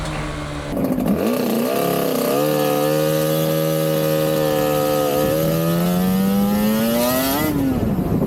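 Two-stroke Suzuki RG500 motorcycle engine with a dry clutch, revving loud and close, its raspy pitch climbing steadily and holding high before dropping off at the end.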